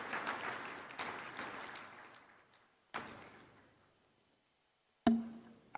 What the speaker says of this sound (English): Kindly give them a round of applause.